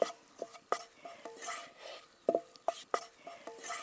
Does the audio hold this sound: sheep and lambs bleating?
no